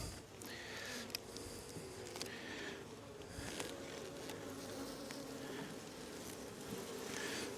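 Honey bees buzz densely around an open hive box during a spring colony split, a continuous low hum with individual bees droning past close by.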